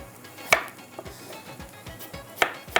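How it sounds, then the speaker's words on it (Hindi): A knife chopping tomatoes finely on a board in a kitchen while onions fry, crisp irregular taps with a couple of sharper louder strikes, close and clear. "बारीक बारीक टमाटरों को चॉप कर लीजिएगा"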